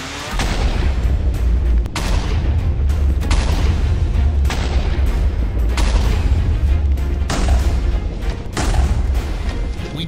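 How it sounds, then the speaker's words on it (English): Volcano explosions rumble underground in a Minecraft animation, a loud, continuous deep roar broken by repeated heavy booms and thuds at irregular intervals, with a faint voice blended beneath. "So the explosions were coming from underground instead."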